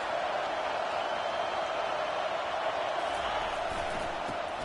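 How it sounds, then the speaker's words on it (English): A stadium crowd roars steadily in NCAA College Football 25 as the home fans get loud to help their defense: a dense, unbroken wash of noise with no clear rise or fall and no distinct voices. "It is getting loud as this crowd tries to help its defense."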